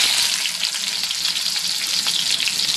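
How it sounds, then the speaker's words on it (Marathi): Onions tipped into hot oil for a spiced parwal bhaji, giving a loud, steady, close-up sizzle of frying that stays dense and even throughout. "आता मी कांदा टाकून घेते."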